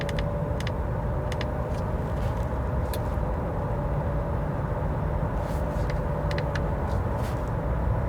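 Interior of a 2020 Honda CR-V Hybrid Touring AWD cruising on engine and battery power together, a steady low road and drivetrain rumble with faint intermittent clicks, no voices.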